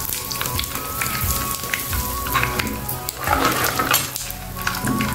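Mustard seeds, cumin, dried red chillies and asafoetida sizzling hard in hot oil for an alasanda kaya curry tempering, a loud, dense crackle with popping bursts and no voices.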